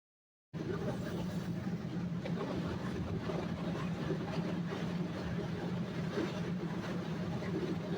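A steady low rumble and rolling drone from inside the Sundarban Express passenger train moving along the tracks on the Dhaka–Rajbari route, running unbroken after a brief silent start.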